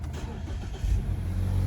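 A Mazda 3 Maxx hatchback's engine cranks and catches, settling into a low, steady idle close by after a brief quiet moment.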